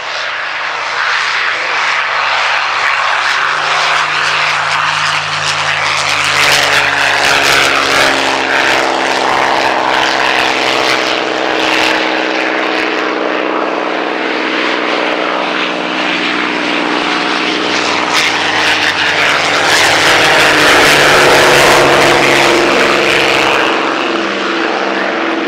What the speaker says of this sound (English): Rolling now, a pair of P-51 Mustangs.